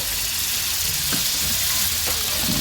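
Butter and oil sizzle loudly in a hot pan, a dense, continuous crackling hiss held close and steady, with a few faint clicks of movement in the pan.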